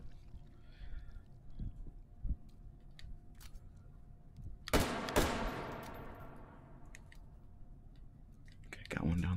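Gunfire in the VR game Hot Dogs, Horseshoes and Hand Grenades, Take & Hold mode: scattered clicks and taps, then one sharp loud shot with a ringing tail and another near the end, with talk in between.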